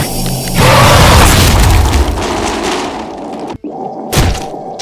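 A bomb goes off in the physics sandbox game People Playground, a loud deep boom that swells and rumbles for a couple of seconds, followed by a brief cut and a second sharp blast near the end.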